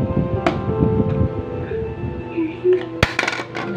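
Clinking and clattering of a toddler's milk bottle being washed, with light knocks against dishes and a sharp clunk near the end, heard under a child's and adult's talking.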